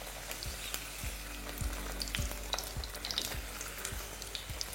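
Chicken snacks shallow-fry in oil with a steady sizzle, punctuated by several low thumps and scrapes as pieces are turned in the pan.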